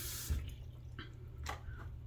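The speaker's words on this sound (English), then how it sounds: "We're gonna stick some cold water in here." Cold water trickles and splashes quietly into a ceramic mug, with a few soft drips over a low background hum.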